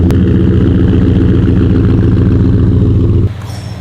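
A truck engine runs loud and close with a steady, throbbing low rumble, then drops sharply to a quieter hum near the end.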